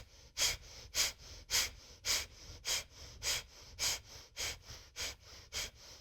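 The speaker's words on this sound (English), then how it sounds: "breath of fire" Rapid, forceful kundalini yoga breath of fire, a steady series of about sixteen sharp rhythmic exhalations pumping from the navel, close and clear with no talking.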